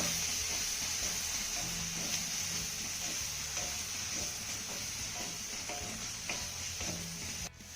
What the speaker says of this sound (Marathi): हा टोमॅटो ना चांगला मऊसूत होईपर्यंत आपण परतून घेऊया